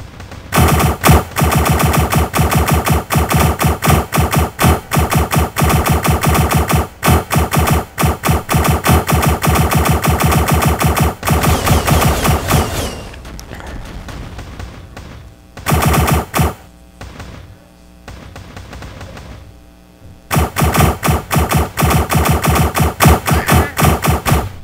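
Sustained rapid video game gunfire while shooting blocks in Block Fortress, loud dense automatic bursts that run for long stretches, break off briefly in the middle, then resume.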